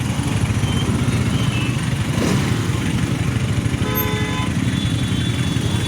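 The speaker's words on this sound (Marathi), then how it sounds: "हे सगळ्या बाईक चालल्या ना" Motorcycles ride through traffic on the road to Trimbakeshwar, their engines droning and revving continuously nearby, with a brief horn toot near the end.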